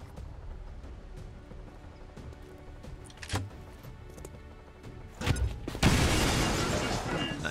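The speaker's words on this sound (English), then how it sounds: "Let's pop another explosion so you can blow some cover." Game explosions and cover being blown apart in XCOM 2 Wars of the Chosen with a Star Wars clone mod, heard as scattered thuds and cracks leading to a loud, sustained blast and rumbling debris near the end.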